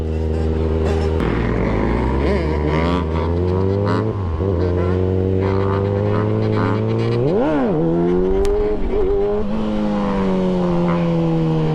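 A Kawasaki ZX6R motorcycle with no exhaust revs up and down repeatedly with a harsh, unmuffled rasp, rising to sharp peaks and dropping back, close to the listener.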